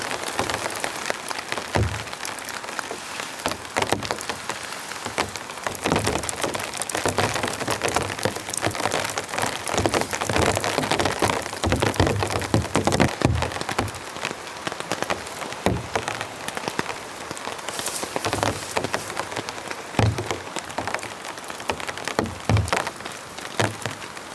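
Heavy storm rain drums densely on a camping tent, a continuous close patter with sharper drop hits scattered throughout and no voices.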